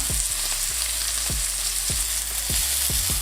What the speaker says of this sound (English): we're going to render the fat, which you can see on the sirloin steak. You want to render it until it's nice and golden brown.